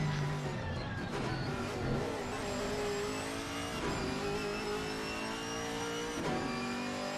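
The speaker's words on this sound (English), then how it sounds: "Just listening to this, it sounds like Barders is having to do a lot of feathering through certain parts of the circuit just to keep traction" GT4 V8 race car engine in Assetto Corsa Competizione at Oulton Park, revving up and down through gears with repeated throttle lifts and blips, several cars droning together at moderate volume.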